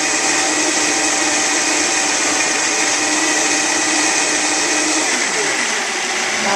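A Vitamix blender runs steadily at high speed breaking down ingredients, a loud continuous whirring roar that holds even throughout and eases slightly near the end.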